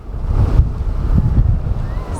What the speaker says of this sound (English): And it is very, very windy.